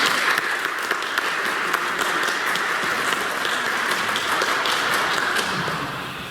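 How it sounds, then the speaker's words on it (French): A church congregation applauds the mothers present during a Mass homily, dense steady clapping filling the space and fading slightly at the end. "je pensais qu'on pourrait applaudir toutes les mères qui sont ici"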